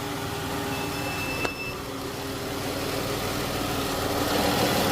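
A 2011-or-later Chrysler 300 engine idles steadily nearby, an even mechanical hum with a brief click near the start, and no talking.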